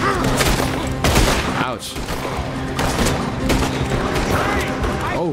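Rapid pistol shots and heavy gunfire from a Red Dead Redemption II shootout, dense and loud throughout, with a brief pained voice and other game sounds mixed in.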